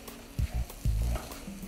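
Vermicelli being stirred in a simmering saucepan, with a few short scraping, sizzling bursts of spoon against pan, close and fairly quiet.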